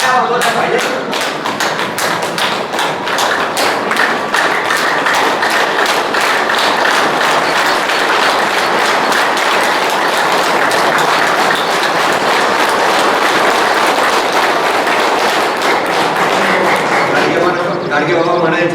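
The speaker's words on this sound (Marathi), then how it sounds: "निदान त्यांच्यासाठी तरी जोरात टाळ्या वाजवल्या पाहिजे" A large audience at a public talk claps loudly and steadily, dense sustained applause filling the whole stretch and fading slightly near the end.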